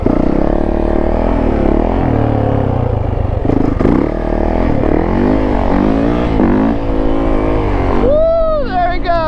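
A 450 dirt bike engine revs hard and continuously during a wheelie, loud and close, with rising and falling pitch, and people shout over it near the end.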